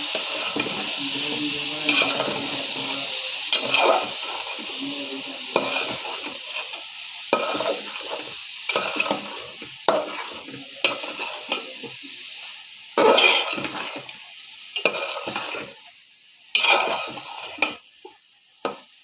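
Ridge gourd frying in a spiced masala of turmeric, chilli, panch phoron, coriander powder, onion paste and garlic paste for a katla fish curry, with a steady sizzle under repeated scraping strokes of a spoon against the pan.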